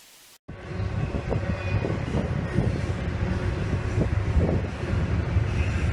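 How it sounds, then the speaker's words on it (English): A train rumbles along steadily with rattling, clacking cars and some wind buffeting over the continuous low roar. "The train is gonna come to a stop, looks like it."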